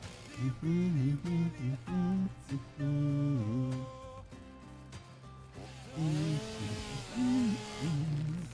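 Chainsaw in a factory-building video game, revving in repeated bursts with rising and falling pitch, separated by brief idle gaps, loud and close with no talk.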